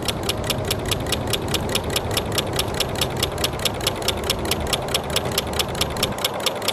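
A small solar-heated Stirling engine runs, its piston giving a fast, even ticking beat that holds steady throughout, close and moderately loud over a soft hum.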